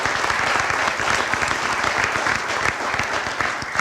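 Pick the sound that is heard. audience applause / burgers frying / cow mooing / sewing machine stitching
audience applause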